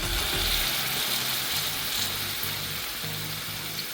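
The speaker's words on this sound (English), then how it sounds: "we're just trying to sear our turkey breast right now" Turkey breast searing in hot oil in a pan on a stovetop, a steady close sizzle running throughout with low rhythmic clicking or popping underneath.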